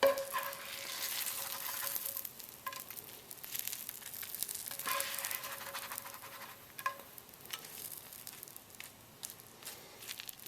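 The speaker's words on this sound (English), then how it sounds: "you can still hear it sizzling when the almonds hit the trout" Almonds landing on pan-fried trout in a hot pan, a steady close crackling sizzle with faint stirring scrapes, continuous and without talk.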